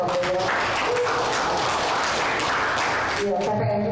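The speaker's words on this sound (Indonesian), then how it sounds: "tepuk tangan ke Bang Boyra." Audience clapping at a Karang Taruna youth leadership training event in Jakarta, a steady dense patter of hands filling the hall for about three seconds, with voices breaking in near the start and end.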